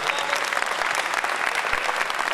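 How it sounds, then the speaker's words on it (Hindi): An audience at a Hindi-Urdu kavi sammelan and mushaira poetry gathering breaks into dense, continuous clapping, close and lively, holding at an even level throughout the short burst. "अगर इस पे इतनी ही तालियां तो मैं उसी पे आ जाऊं फिर।"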